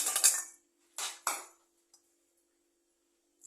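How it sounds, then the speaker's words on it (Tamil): Dry bits of mango for pickle rattle and clatter into a metal pot in two short bursts, then a faint clink or two as things settle. "இதை ஒரு பாத்திரத்தில் கொட்டிக்கலாம்."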